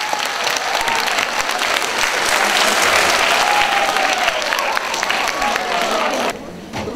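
An audience at a girls' high school presentation event claps in a loud, sustained round of applause that swells and holds for several seconds before cutting off abruptly near the end.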